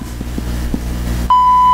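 A sustained electronic beep sounds in New Super Mario Bros. Wii, a steady clear tone starting abruptly partway through and holding loud to the end over a low background hum.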